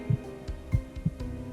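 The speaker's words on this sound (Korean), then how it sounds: "아주 희미하게 두근두근 하는 소리가 들려오는 듯 했죠" A heartbeat sound effect with four low, muffled thumps in an uneven throb over a dull background hum. It is faint and close, with no voices.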